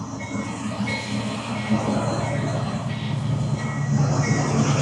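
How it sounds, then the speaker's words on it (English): A slow train rumbles steadily past close by at a road crossing, wheels clattering with faint squeals over a continuous low roar. "it's just time to stop and wait on the train"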